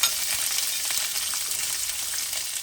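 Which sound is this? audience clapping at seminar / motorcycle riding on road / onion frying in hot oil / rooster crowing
onion frying in hot oil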